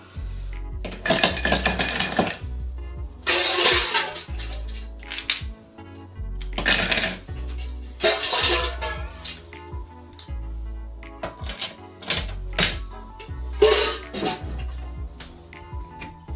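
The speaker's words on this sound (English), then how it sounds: "Before straining into it, what you want to do is fill it with ice." Ice cubes clink and rattle into a highball glass while a cocktail is made, several bursts of clattering glassy knocks up close over soft background music.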